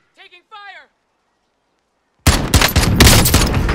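Automatic gunfire in a shooter video game erupts in a loud, dense burst of rapid shots after a short spoken phrase and a pause of silence.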